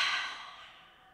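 A single long, slow exhale during seated yoga breathing, breathy and airy, close to the microphone and gradually fading to quiet.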